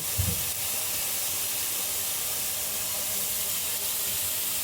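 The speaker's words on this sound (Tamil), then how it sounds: "வெந்தயம் போட்டுருக்கு எல்லாம் போட்டு வதக்கிட்டு" Fenugreek and spices sauté in a pan with a steady soft hiss of frying oil, quiet and unbroken, after a brief low thump at the start.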